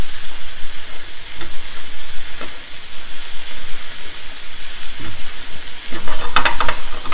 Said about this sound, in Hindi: इनको अच्छी तरह सौटे कर लीजिए।